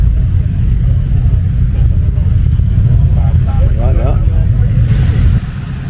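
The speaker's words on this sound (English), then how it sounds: "Hey! CRF 300L." A Honda CRF 300L dual-sport motorcycle rumbles past at an adventure bike riders festival, engine steady and fairly loud amid crowd noise, with a shout over it before the sound drops away.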